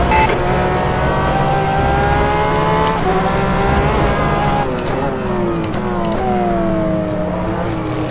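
A Porsche 911 RSR GTE race car engine in the rFactor 2 racing game at Portimao screams loudly through repeated upshifts and pitch swings, a continuous close high-revving note.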